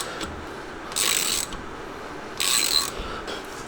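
A bolt is threaded into a Dana 44 axle part for a Jeep Comanche or Cherokee build. Two short bursts of quick metallic ratcheting are heard up close, with quiet handling sounds between them.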